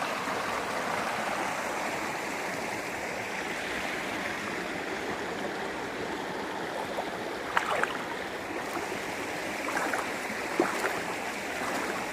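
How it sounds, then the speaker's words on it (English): A river running high after rain rushes past in a continuous, moderately loud watery roar, with a few brief splashing accents near the end and no voices. "the river was high this morning"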